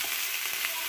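Steady, dense sizzling of pork frying on a hot Thai moo kratha grill pan, close and continuous, with faint crackles popping through the hiss.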